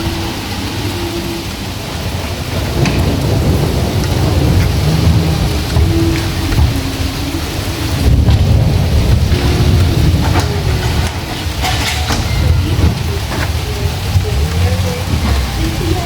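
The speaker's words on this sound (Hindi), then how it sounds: "देखिए गरज चमक हो रही है।" A thunderstorm pours heavy rain in a loud, continuous roar, with low rumbles of thunder, faint voices and occasional traffic noise underneath.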